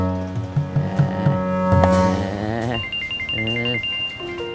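A phone ringtone for an incoming call plays alone as a melodic electronic tune, loud and close, its repeating phrases shifting pitch over several seconds.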